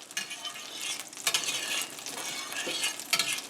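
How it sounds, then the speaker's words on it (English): Butter melting in a skillet to start a roux for a mushroom wine sauce, giving a steady, close sizzle with occasional louder crackles and stirring scrapes and no voices. "We got our butter, we're going to get it melting, and then we're going to add our flour, and we're going to make a roux"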